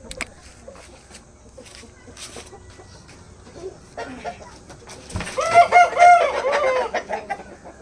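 Backyard hens fed once a day cluck and squawk near the microphone, starting as sparse scattered clucks and rising to a loud, busy burst of cackling toward the end, with a voice talking faintly.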